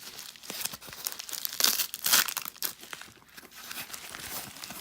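Packaging around a Sabertrio Neo Vahlken lightsaber hilt in silver and black is cut and pulled open. Close, continuous crinkling of plastic wrap comes with a few louder tearing and ripping bursts, and no voices.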